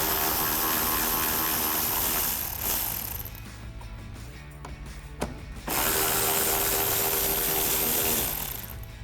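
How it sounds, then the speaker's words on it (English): Removing the two 7mm lower trim screws by the fender well of a 2021-2022 Ford F-150 with a socket, a loud, steady ratcheting clatter running most of the time with a quieter pause midway. "So I'll take them off with the 7mm socket."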